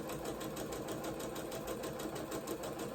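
A sewing machine runs steadily with the needle down, stitching and gathering a single layer of fabric in a continuous close mechanical whir for the full three seconds, with no talking.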